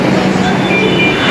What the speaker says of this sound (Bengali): তো দেখো এই যে এখন মেট্রো চলে যাবে